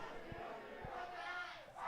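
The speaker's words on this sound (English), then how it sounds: "The Sweets fans in the crowd are fired up." A crowd of fans cheers at an ultimate frisbee all-star game, a distant, sustained roar of voices with a few low thumps underneath, steady throughout.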